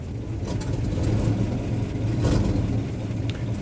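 A Ford F250 truck engine idling just after a cold start, a steady low rumble with a faint mechanical hum, close and even throughout.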